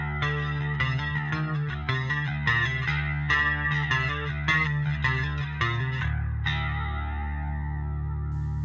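Bass guitar with heavy effects, dialed in to clone a bassist's tone on a song, plays a driving riff of chorused, distorted notes, then lets a final note ring out, close and loud with no talking.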